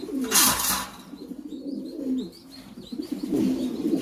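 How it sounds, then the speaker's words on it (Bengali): Soft, throaty cooing from Lahore pigeons repeats close by, with a few faint chirps mixed in and no talking. "আমরা বিশ পিস কবুতর রাখছি আমরা জোড়াতে দেবো"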